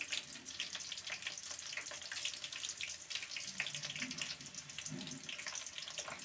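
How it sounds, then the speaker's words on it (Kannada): Garlic frying in hot oil for a gram-flour garlic khara snack, giving a steady, dense crackling sizzle that runs unbroken throughout at moderate level. "ಬೆಳ್ಳುಳ್ಳಿನೂ ಕೂಡ ಇದೇ ಎಣ್ಣೆಯಲ್ಲಿ ನಾವು ಫ್ರೈ ಮಾಡ್ಕೋಬೇಕಾಗುತ್ತೆ"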